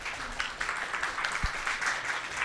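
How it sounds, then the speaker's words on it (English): Conference audience gives a round of applause, a continuous, even wash of many hands clapping at moderate loudness, steady throughout with one low thump partway through. "A huge round of applause."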